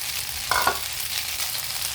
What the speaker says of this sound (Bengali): এখন টমেটো কুচিগুলো ছেড়ে দিব